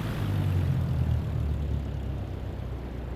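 Simulated airplane engine in a flight video game, throttled back to idle after fuel is cut on approach to a runway; a steady low droning hum with no talk.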